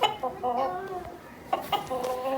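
An Aseel rooster from Multan clucks close by in a series of throaty, uneven bursts, continuing through the short stretch with faint background noise.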